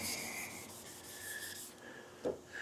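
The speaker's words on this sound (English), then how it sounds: "I'm going around with 600 on this soft block, and we're just going to sand out those 320 grit scratches" A car panel is sanded by hand with 600 grit paper on a soft block in a home garage, a faint, steady rubbing close by with one brief louder knock near the end.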